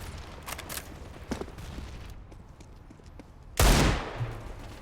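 Gunfire in the video game CS:GO, with a scatter of quieter shots followed by one loud close burst late in the clip, set against low match background noise.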